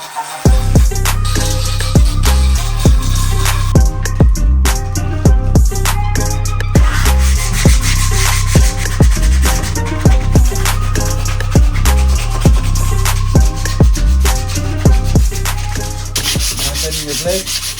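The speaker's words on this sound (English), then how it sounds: "we're gonna have to switch to our Dremels so we can work on the smaller and finer details" A Dremel rotary tool sands a prop sword blade with a loud, continuous grinding rasp, pulsing in quick repeated strokes throughout.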